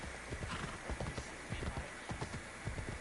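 Horse hooves clip-clopping in Assassin's Creed Odyssey, a steady rhythmic trot of sharp hoof strikes over a hissy background, fairly faint and continuous, with a voice speaking at times.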